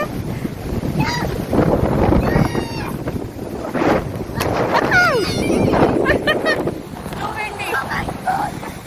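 Wind buffets the microphone by the water on a breezy day, a steady gusty rumble running throughout, with people talking over it.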